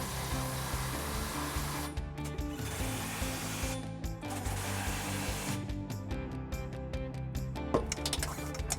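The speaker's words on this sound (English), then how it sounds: "Just make sure that you don't over torque them with the impact." Impact wrench tightening trailer hitch bolts on a Dodge Durango, close and steady with a ratcheting, buzzing rattle and short breaks between runs.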